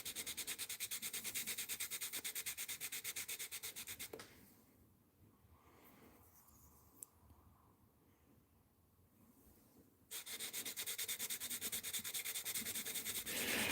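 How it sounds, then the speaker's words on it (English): Steel polished by hand with 400 grit sandpaper while making custom picks: fast, even rubbing strokes close up, then a quieter pause of about six seconds before the steady scrubbing resumes. "to watch me polish some steel by hand like this"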